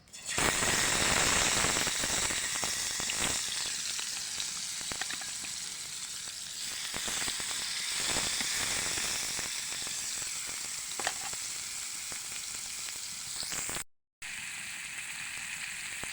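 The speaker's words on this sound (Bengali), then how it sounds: "তো এই যে মাছগুলো এখন ভেজে নিব" Fish fry in hot oil in a pan on a clay stove, making a loud, dense crackle and sizzle that runs throughout with a few sharper pops.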